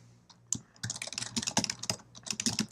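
Typing on a computer keyboard into a document produces quick irregular bursts of close, crisp key clicks, with a brief pause early on before steady typing resumes.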